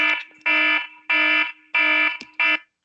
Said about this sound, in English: Now, I know this alarm is bothering you